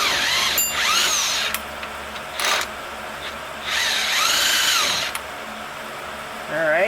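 A power tool drills a bolt out during a rear axle swap on a 210, whirring in bursts with rising and falling pitch and short pauses between runs, close and loud, with some brief voice sounds.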